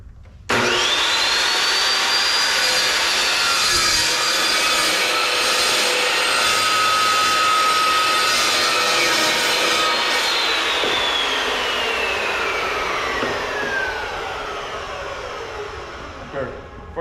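A power saw cuts through scrap metal stock to build a transmission stand. It is a loud, continuous high-pitched whine that steadies through the cut and then winds down as the blade slows.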